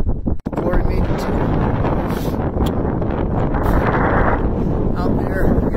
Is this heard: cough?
no